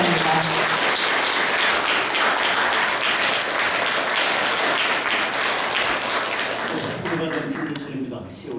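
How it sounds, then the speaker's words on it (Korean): Enthusiastic crowd applause welcoming a poet at a book concert, a loud, sustained patter of many hands that fades out over the last second or so, with voices mixed faintly underneath. "큰 박수로 환영해 주시기 바랍니다"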